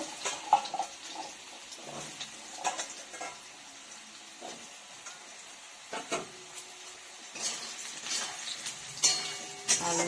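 Potatoes hit hot oil tempered with black cumin (kalo jeere), giving a quiet, steady sizzle with several sharp clinks and scrapes of a spoon against the pan spaced through it.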